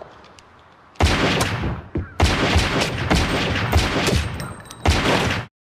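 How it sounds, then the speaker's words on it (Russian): Several loud gunshots fired in a burst from a pistol pulled from a fish's mouth in the crime drama The Sopranos, sharp cracks with a short gap before a dense volley and one final shot, close and dominant. "Тони внезапно вытащил из ее пасти ствол и произвел несколько выстрелов в Чаки"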